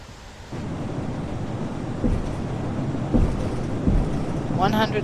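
An Airbus A321 in FSX rolls down runway 28 for takeoff, with a loud, steady broadband jet roar that swells slightly as the run builds and has a few soft thumps under it.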